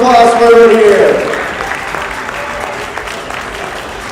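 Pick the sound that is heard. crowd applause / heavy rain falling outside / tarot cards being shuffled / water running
crowd applause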